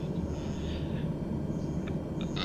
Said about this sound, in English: I want to hear the engine as well.